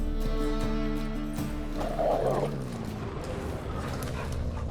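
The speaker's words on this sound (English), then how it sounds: "Just beware of the dogs." Dogs bark and whimper in The Witcher video game, a few yips and whines over a steady game ambience with a low murmur of background sound.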